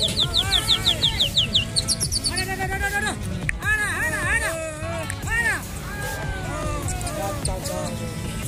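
Racing pigeons aloft in a flying competition, with loud, repeated whistles and chirps close by over steady crowd chatter and low background babble.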